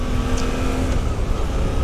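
Suzuki V-Strom 800DE motorcycle engine held at a steady, loud idle-to-rev drone with a constant low hum throughout, no voices present.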